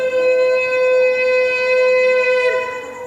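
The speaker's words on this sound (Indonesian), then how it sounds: "itu sirine Jakarta" A civil defense siren sounds across Jakarta during Ramadan, a steady, loud tonal wail that holds its pitch for about three seconds before starting to fade.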